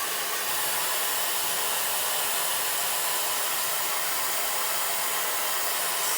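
A Dyson AirWrap hair styler blows air on medium heat in a loud, close, constant whoosh that holds steady throughout, with no speech.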